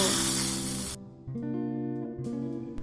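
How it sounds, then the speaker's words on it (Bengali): Hot tempering of fried dried chillies hits lentil dal with spinach, a loud sizzling spray for about a second that cuts off, followed by tonal background music. "এখন এই তরকাটাকে ডালের মধ্যে দিয়ে ভালো করে"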